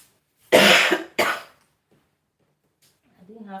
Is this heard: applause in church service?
no